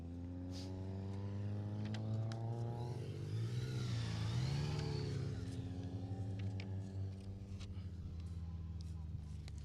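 A Peugeot 106 Rally car's small engine drones steadily on a rally stage, its pitch swelling and then falling as it revs past, with a commentator talking over the engine the whole time.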